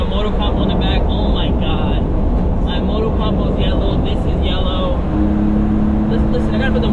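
Daihatsu Midget 2 driving at 80 km/h with the windows down, a steady loud roar of engine and wind noise throughout, with a voice talking over it.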